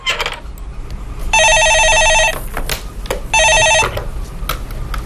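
Telephone ringing with an incoming call on a TV stock market call-in show, two bright electronic trill bursts about a second long separated by a pause, loud and close over faint room noise.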